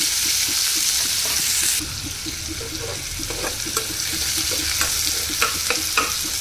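Onions drop into hot oil with chana dal and urad dal for a ridged gourd curry, giving a loud, steady sizzle and frying hiss with a sharper burst partway through, punctuated by repeated stirring scrapes and clicks.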